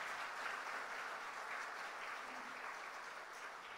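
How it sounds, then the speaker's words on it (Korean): A church congregation applauds after an infant baptism at a Sunday worship service, a steady, dense wash of clapping from many hands that holds evenly throughout, heard from within the sanctuary. "박수로 축하해 주시기 바랍니다."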